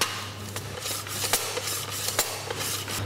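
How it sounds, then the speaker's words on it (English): Peeled potatoes sliced thinly on a mandolin for a gratin dauphinoise, giving a steady run of quick rasping scrapes, each stroke a brief swish repeating at an even pace over a constant background hum. "slice them very thinly on a mandolin"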